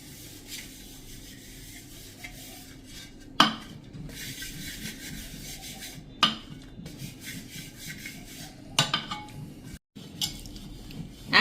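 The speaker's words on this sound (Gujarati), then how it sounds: "આ રીતે તમે બ્રશેથી કે હાથેથી ફરતા વાસણમાં તમારે તેલ લગાવી લેવાનું છે સેજ સેજ" Oil being rubbed by brush or hand over a new unglazed clay cooking pot, giving soft, steady scraping and rubbing close by, broken by a few sharp knocks of the pot, with no voices.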